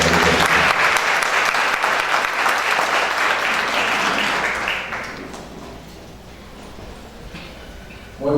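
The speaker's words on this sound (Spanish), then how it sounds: "Amablemente recibimos al doctor Gonzalo Rodrigo Paz Maecha con un aplauso de ustedes." A conference audience at an international criminology and law congress claps loudly to welcome a speaker, dense applause for about five seconds before fading to a quieter room with scattered sounds.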